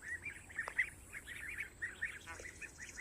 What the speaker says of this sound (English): Here with ducklings. See how big they're getting? They're getting mighty big.